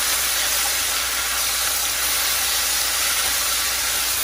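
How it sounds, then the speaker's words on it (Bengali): Onion and a little garlic fry lightly in a pan, giving a steady, loud, broadband sizzle that holds constant from start to finish with no voices. "তো বন্ধুরা, আমি এখানে পেঁয়াজ দিয়ে দিয়েছি এবং একটু রসুন দিয়ে দিয়েছি।"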